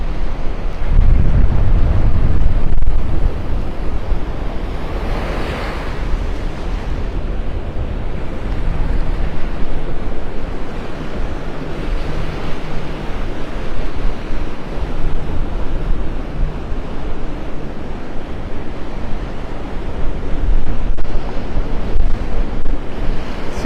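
Cool north wind gusting across Vanderbilt Beach in North Naples with surf washing in, a continuous loud roar of wind buffeting the microphone and breaking waves throughout, no talking.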